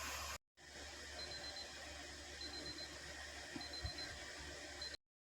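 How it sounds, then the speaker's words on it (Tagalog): Kitchen timer alarm going off while puto steams, a faint, steady high-pitched beeping repeating at regular intervals for several seconds against low background hum, then cutting off abruptly. "So, nag-alarm na yung timer natin."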